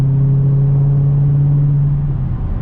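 A Dodge Challenger Hellcat engine pulls hard down a straightaway, a loud steady drone that holds for a couple of seconds before easing off, heard from inside the car.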